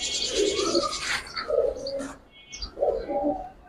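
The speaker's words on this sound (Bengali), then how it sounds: "কবুতর সুন্দর।" Giribaz pigeons cooing close by in a trade setting, several soft throaty coos in a loose rhythm with faint chirps behind, no talk over them.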